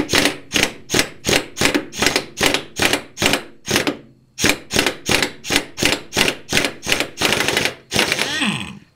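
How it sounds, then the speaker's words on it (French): Impact wrench set to its lowest power hammering at a rusted bolt on a Hyundai Accent during clutch work, about twenty loud, close rattling bursts in a steady rhythm with one brief pause, ending in a longer continuous run. "Je vais tenter de dévisser à la clé à choc."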